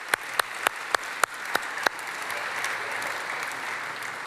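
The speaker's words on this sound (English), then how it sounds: "a round of applause" A conference audience breaks into applause after a talk on product decisions: several sharp, evenly spaced claps from one person up front, then a broad even wash of many hands clapping that carries on steadily.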